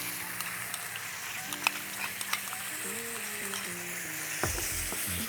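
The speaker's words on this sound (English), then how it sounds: "Add my coconut cream in" Coconut cream poured into a sizzling Sri Lankan spicy lamb curry crackles and hisses steadily, with a few sharp pops and clinks of stirring and a low background hum.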